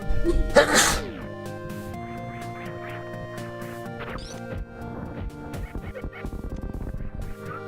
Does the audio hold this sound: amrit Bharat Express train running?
no